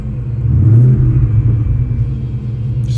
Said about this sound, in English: Let's see what the exhaust sounds like before I shut it down.